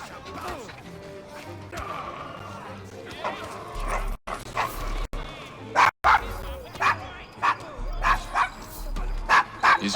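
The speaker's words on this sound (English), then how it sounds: "Is your dog quite all right?" In the Assassin's Creed Syndicate video game, a dog barks repeatedly in short, sharp yips and whimpers nearby, mixed with speech and game sounds.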